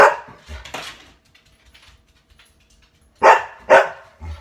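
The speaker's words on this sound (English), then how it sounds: "Is Scruffy barking?" A dog barks twice close by, sharp loud woofs near the end, after a short earlier bark and some quiet household movement in a home where pet birds are kept.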